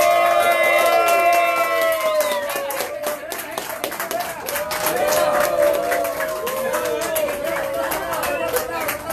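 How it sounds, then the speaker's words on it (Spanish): A crowd claps and cheers for a giant pupusa arriving at a street food spot in Los Planes de Renderos, El Salvador, loud and steady throughout, with voices calling out and talking over the applause. "¡Un aplauso!"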